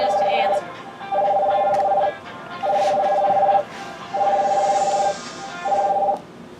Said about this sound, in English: I'm calling your phone.